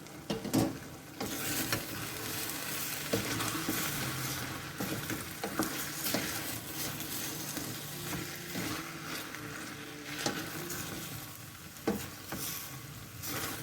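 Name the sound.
stirring bean stew with wooden spoon, scraping pan bottom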